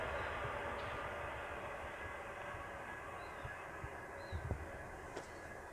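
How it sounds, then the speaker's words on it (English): A train passes in the distance beside a fishing lake at Barston in winter, heard as a faint, steady rumble spread across the whole stretch, with small outdoor knocks near the end. "We've got a train now."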